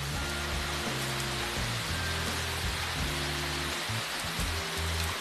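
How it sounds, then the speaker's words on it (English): Steady rain falls in Jamaica, a dense, even hiss of drops on surfaces that continues without a break, close and moderately loud, with a low rumbling hum underneath. "It's raining."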